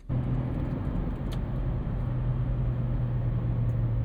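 Steady low drone of a car with a 2JZ engine cruising, smooth and quiet, with a constant even rumble and no talk.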